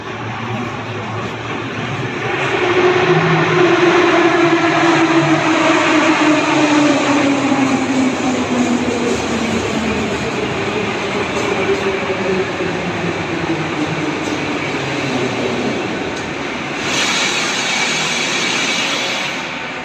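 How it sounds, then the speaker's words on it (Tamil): Kyiv metro train pulling into a station, a loud rising rumble of wheels and motors that builds, sustains with a falling whine as it brakes, then settles into a steady hum near the platform. "இப்போ ட்ரெயின் வந்துருச்சு."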